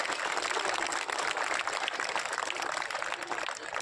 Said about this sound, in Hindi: एक बार सब मिलकर खिलाड़ियों के लिए जोरदार तालियां बजा दीजिए।